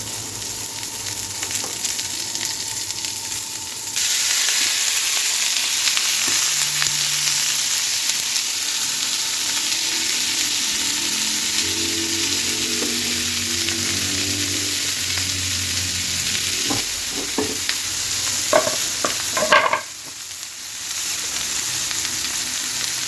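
Sliced onions sizzle steadily in hot oil on a cast-iron sizzler plate over a medium flame, a loud continuous frying hiss with a few crackles and stirring knocks near the end.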